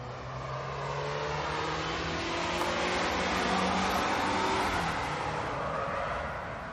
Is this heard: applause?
no